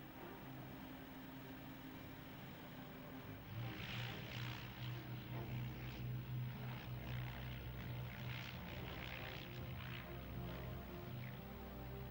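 A Wellington bomber's propeller engines drone steadily, growing louder partway through as it passes low and close overhead, with a continuous engine rumble throughout.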